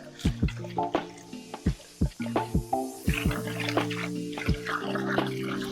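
Coffee porter beer wort glugs and splashes into a fermenter in uneven bursts, with hollow bubbling tones rising as it fills, close by.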